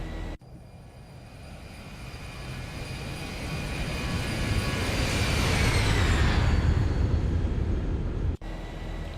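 A Zibo Boeing 737 in a flight simulator game roars past on a flyby, its engine whine swelling and pitch sliding downward as it passes, then holding steady after a brief cut.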